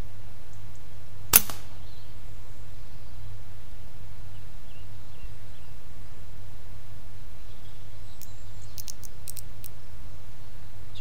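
One sharp, short crack of an air rifle fired at a grey squirrel near a garden feeder, heard once early on against a steady low outdoor hum, with faint bird chirps later.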